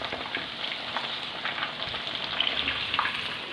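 Pieces of chicken tikka frying in hot oil give a steady, soft sizzle and crackle with a few brighter pops, close by and continuous, with no talking.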